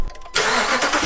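A 2013 Ram 1500 pickup, just repaired for a misfire, cranks briefly and then fires into a loud, steady idle close by, with no talk over it.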